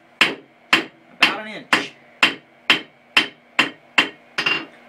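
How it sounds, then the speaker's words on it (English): A hand hammer strikes hot steel on an anvil while forging a coat hook, nine sharp ringing blows at a steady rhythm about two per second, close and loud, with brief speech mixed in. "we come to the near side of the anvil, we give it a good solid tap there to isolate that portion, and we flatten"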